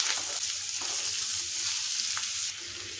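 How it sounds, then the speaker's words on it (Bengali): Strips of potato cut long and thin fry in a pan while a spatula stirs now and then, giving a steady broadband sizzle broken by a few brief scraping accents; no one speaks. "এখন আলুটা ভেজে নিতে হবে।"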